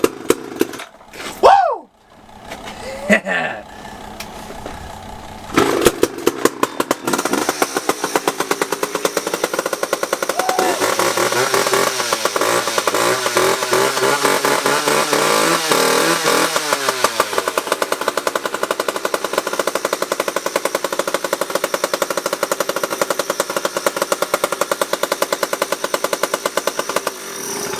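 An old McCulloch chainsaw cold started on choke sputters to life after a few pulls, then settles into a loud, steady two-stroke run with rising and falling revs; a voice whoops briefly near the start.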